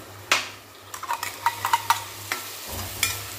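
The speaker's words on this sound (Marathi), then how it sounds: "आता त्याच्यामध्ये आपल्याला टमाट्याची पेस्ट टाकून घ्यायची। टमाट्याची पेस्ट टाकून घेऊया" A spoon stirs tomato paste into onions frying in oil, giving a low background sizzle with a run of distinct scraping clacks and taps against the pan.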